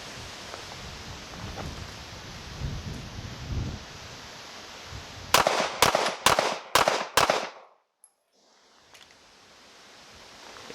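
Five rapid pistol shots from a Sig Sauer P320c crack out sharply at close range, evenly spaced within about two seconds, over outdoor wind noise and followed by a short near-silent pause.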